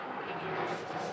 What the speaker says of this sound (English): that's a plane going by